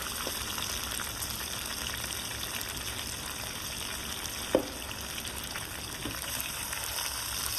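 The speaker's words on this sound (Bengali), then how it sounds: "এবার আমরা জল দিয়ে দেবো।" Water goes into a pan of frying potatoes and pointed gourd and sets off a steady, even sizzle and hiss that lasts throughout, with a brief clank partway through and no speech.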